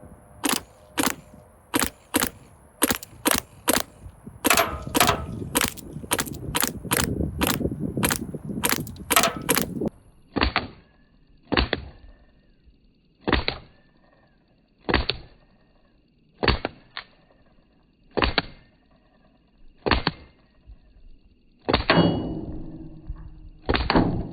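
Paintball gun firing paintballs at targets, sharp loud pops, a quick irregular volley at first, then slower single shots evenly spaced, with some clatter of hits; no talk.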